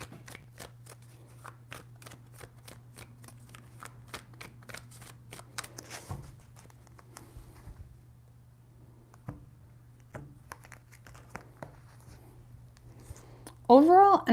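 Tarot cards shuffled by hand in three rounds, crisp riffling and flicking taps close to the microphone over a low steady hum.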